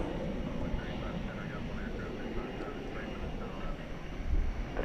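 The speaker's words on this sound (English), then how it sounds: "We switch now to camera 1 to get this Delta plane coming in" Delta airliner on landing approach at DFW Airport at night, a steady broad engine roar with a distant whine rising slightly near the end, while someone talks over it.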